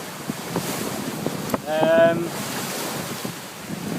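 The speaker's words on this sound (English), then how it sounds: "we're still sailing along with the wind behind us" Wind rushing and waves washing past a sailboat running downwind at sea on an Atlantic passage from the Azores to Fuerteventura, a continuous broad roar with a brief tonal creak or whine midway.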